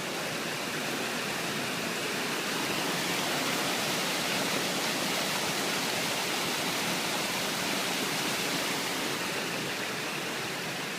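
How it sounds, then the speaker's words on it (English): Mountain creek rushing over rocks beside a wet, rocky hiking trail, a steady broadband wash of flowing water, close and continuous with no voices. "We've been following this creek for a while."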